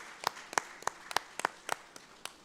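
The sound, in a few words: audience applause at a breakout session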